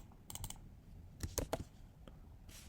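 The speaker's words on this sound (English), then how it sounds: "Type it right over here." Short bursts of typing on a computer keyboard during web design work, a few quick clusters of key clicks, fairly faint and close, with no talking.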